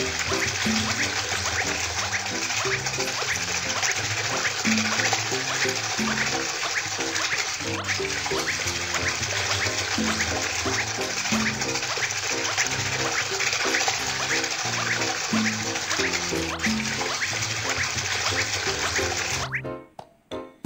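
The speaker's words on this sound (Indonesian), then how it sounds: "Tuangkan beton ke dalam lempeng lantai." A cartoon sound effect of wet concrete being poured into a floor slab: a loud, continuous gushing rush that runs steadily for about twenty seconds over a busy backdrop before cutting off abruptly.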